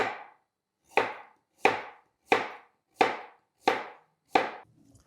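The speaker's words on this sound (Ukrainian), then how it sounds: "Першим ділом я нарізаю моркву." A knife chops through a carrot in seven evenly spaced, crisp thuds on a cutting board, close and clear with quiet between strikes.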